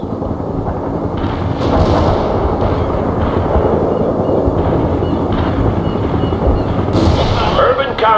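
Heavy artillery barrage from the strategy game World in Conflict, a loud, continuous rumble of overlapping explosions and booms with a few sharper cracks near the end.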